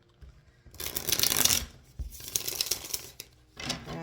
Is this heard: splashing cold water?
no